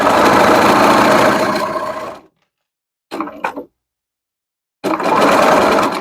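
A sewing machine stitches a French seam, running in a steady loud buzz for about two seconds, stopping, giving a brief short burst of reverse stitches, then resuming a sustained run after a pause.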